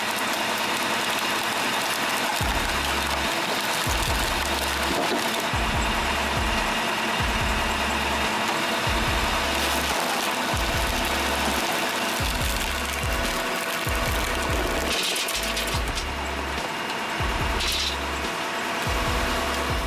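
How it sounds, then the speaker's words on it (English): A homemade two-way hydraulic log splitter runs with a steady engine drone, and a low, regular chugging pulse repeats throughout, loud and close with no talking. "This homemade two-way log splitter shows the result when creativity and engineering come together."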